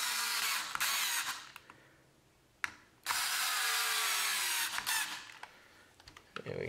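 Bolts are driven tight with a power tool while a carbon fiber digital steering wheel is fitted to a C8 Corvette: several loud, close whirring bursts with brief ratcheting clicks, separated by short quiet gaps, and no speech.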